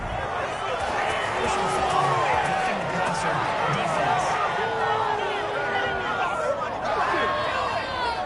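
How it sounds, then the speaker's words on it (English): A stadium crowd at an American football game reacts to a penalty call with a steady, loud roar of boos and chatter, with faint voices rising over the babble. "this crowd does not like that call"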